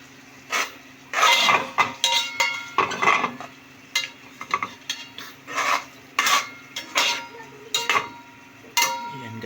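Sardines are sautéed in a pan for ginisang upo, a utensil scraping and clinking against the pan in irregular bursts with soft sizzling between strokes, close and unaccompanied by talk.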